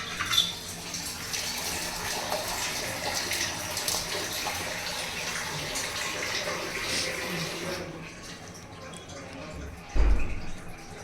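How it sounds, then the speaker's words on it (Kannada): Water pours steadily onto a large batch of jaggery in a vessel, a continuous gushing splash that stops after about eight seconds. A single dull knock follows in the quieter tail. "ಈ ಬೆಲ್ಲ ತೊಯ್ಯೋಷ್ಟು ನೀರು ಹಾಕ್ಬೇಕು."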